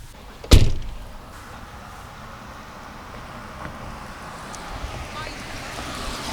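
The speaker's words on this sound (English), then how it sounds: "I'm just going to close the door" A Tesla Model 3 door shuts with one solid thud near the start, then quiet outdoor ambience with soft wind and faint background noise.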